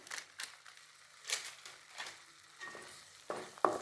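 Green peas masala with spices is sautéed in a pan, quiet sizzling broken by irregular scraping stirs and light clacks of the spoon against the pan, close and soft with no talk.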